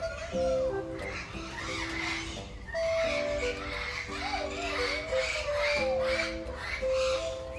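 Repeated harsh bird squawks and honking calls at a zoo in Campinas, Brazil, fairly close, with a busy chorus of other birds and background chatter throughout.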